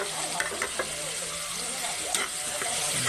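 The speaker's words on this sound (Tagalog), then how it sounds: "Gisa-gisa lang po yung dilis." Dried anchovies (dilis) sauté with softened tomatoes in a pan, giving a continuous close sizzle and frying crackle with occasional stirring scrapes.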